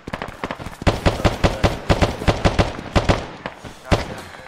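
Rapid bursts of gunfire in ArmA 3 during close-quarters house clearing outside a DPRK base, sharp repeated shots in quick irregular volleys, loud and close, with faint voice chatter underneath.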